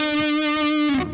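A single sustained electric guitar note played through distortion and effects, ringing bright and steady for about a second before fading, heard alone.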